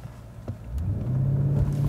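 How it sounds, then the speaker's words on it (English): A 2020 Mercedes-Benz GLS 580 in Sport Plus mode revs its engine before a launch, a steady low rumble that swells and holds louder through the second half, close and without talk. "Revs the engine up."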